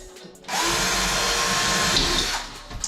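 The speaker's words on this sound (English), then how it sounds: "Now I'm gonna pre-drill these holes out in regards to my wall jam and get the holes pre-drilled." A power drill pre-drills holes in a wall jamb while a heavy glass shower enclosure is installed, one loud, close, continuous high whine that starts abruptly and holds steady.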